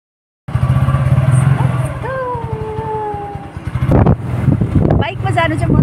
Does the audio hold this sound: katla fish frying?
no